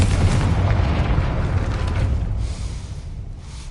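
In the video game Hogwarts Legacy, the Confringo fire spell bursts in a deep, rumbling explosion that fills the opening and then slowly fades as debris settles.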